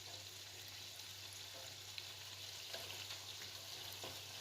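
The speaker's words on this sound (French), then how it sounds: "ils ont commencé déjà à dorer, donc on va les laisser encore quelques minutes dans l'huile" Ginger and grated coconut doughnuts fry in hot oil, a faint, steady sizzle with occasional small pops and crackles, heard alone.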